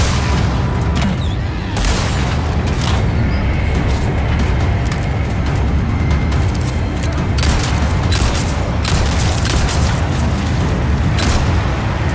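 Rockets launch and explode in Resident Evil 4's Separate Ways chapter, a steady wall of loud, rumbling blasts with sharp crackling bursts of gunfire-like impacts running through all twelve seconds.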